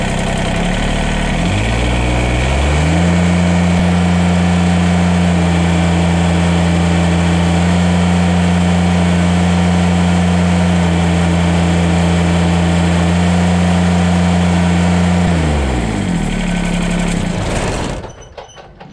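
A Kubota BX compact tractor engine starts, climbs to full revs and holds a loud, steady high drone for about twelve seconds before dropping back and cutting off near the end.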